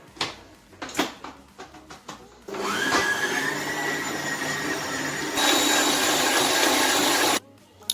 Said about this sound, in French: Je vais donc monter le reste de ma ganache que je m'étais réservé dans un batteur avec un fouet.